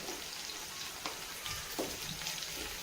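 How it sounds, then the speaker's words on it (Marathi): Finely chopped green chillies fry in hot oil while being gently stirred, giving a faint, steady sizzle with a few soft scraping touches. "आता मिरची थोडीशी फ्राय होईपर्यंत हलक्या हाताने आपल्याला हलवत राहायची"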